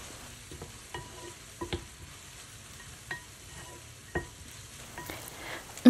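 Onions for a chicken and vegetable tajine fry quietly in a pan under a low, steady sizzle, with a few sparse spoon scrapes and taps as they are stirred.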